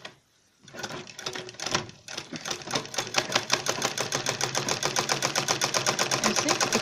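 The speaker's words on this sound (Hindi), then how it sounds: "और उसके बाद हम इसे ऐसे बाहर की तरफ को पलट के और एक सिलाई लगा लेंगे इसके ऊपर।" A sewing machine runs steadily, stitching a zip pocket on a designer bag, a rapid even patter of needle strokes that starts after a brief pause and continues close and loud throughout.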